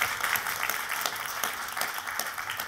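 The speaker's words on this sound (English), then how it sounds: "You can clap. Yeah, let's clap it." An audience at an investment conference breaks into steady, dense applause, many hands clapping together at moderate volume from across a hall.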